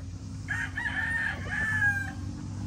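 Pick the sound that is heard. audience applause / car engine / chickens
chickens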